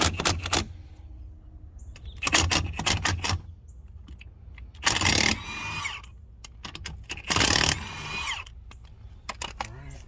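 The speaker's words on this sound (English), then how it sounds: "this is a 17mm socket on a Milwaukee 18-volt" Milwaukee 18-volt cordless impact tool with a 17mm socket working a lug nut on a Mini Cooper wheel, firing in several loud bursts with pauses between, some short, others longer, close to the microphone.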